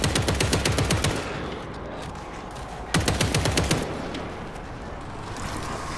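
World War Z video game gunfire: a loud burst of rapid automatic shots opens, fades into a rumbling background, then a second shorter volley rattles out midway, with no talking over it.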